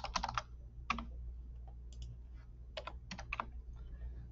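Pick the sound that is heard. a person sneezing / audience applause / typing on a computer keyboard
typing on a computer keyboard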